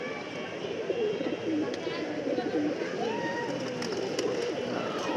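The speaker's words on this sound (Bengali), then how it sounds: "কবুতরগুলো আস্তে আস্তে বের হইতেছে" Several pigeons coo softly and steadily as they slowly leave their cage while someone talks over them, with faint scuffling and movement in the background.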